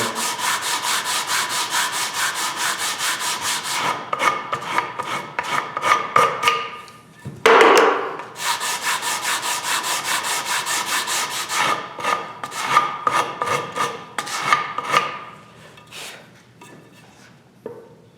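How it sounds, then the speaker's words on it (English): Sandpaper rubs back and forth over a wooden guitar neck in close, rhythmic strokes that are fast and even at first, then slower and more irregular, with a brief louder scrape midway and a fade toward the end. "You want to make sure to keep the sandpaper from rocking and doing this thing."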